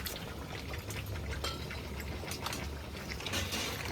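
Water heating in a cooking pot for chicken biryani rice, a steady broadband hiss and bubbling with faint clinks of utensils, continuous and close.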